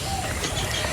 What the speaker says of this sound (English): So many species of birds here